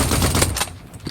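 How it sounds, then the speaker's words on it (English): An AUG assault rifle fires in a video game as a dense burst of rapid shots over about half a second, then a short tail of fainter echo and mechanical clicks. "And here's the shooting with the aim."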